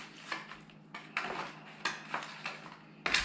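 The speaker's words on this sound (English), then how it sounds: "I'm gonna give these a little stir so I can kind of coat everything in there with all this stuff" Pork belly burnt ends stirred in a pan to coat them in sauce, a series of soft scrapes and light clinks of utensil against the pan, fairly quiet with pauses between strokes.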